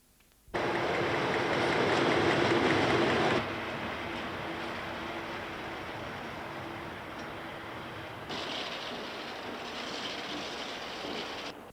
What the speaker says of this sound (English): this Class 37 locomotive ambled slowly past